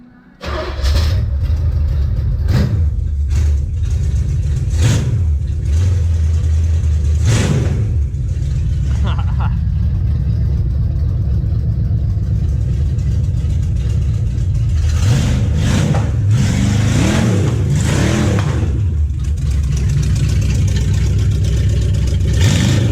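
A car engine runs and revs hard in repeated loud bursts, then settles to a rough idle between blips, close up, with brief talk at times.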